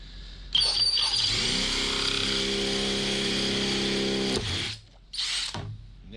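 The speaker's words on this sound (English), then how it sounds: "Sharper drill might be better." Power drill boring out a collar: a loud, steady whirring run of about four seconds that dies away, then two short bursts of drilling in quick succession, close up with no talk.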